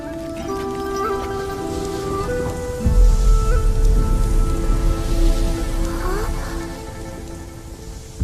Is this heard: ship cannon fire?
no